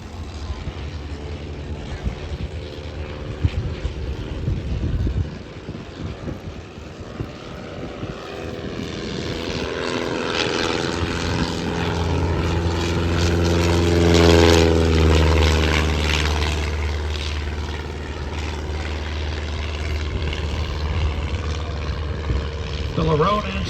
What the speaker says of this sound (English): There's Chris Hill's triplane.